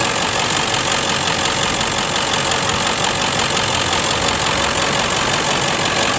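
A used truck's engine in clean condition idles close up with no blow-by, giving a steady, loud, even rumble that stays constant throughout with no talking.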